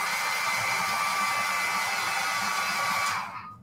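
A loud hair dryer blows steadily on a coffee-stained decoupage craft for about three seconds, then cuts off and fades quickly to silence.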